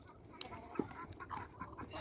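Hens that have stopped laying cluck softly in a noisy farmyard, scattered short calls rising over a busy background hum.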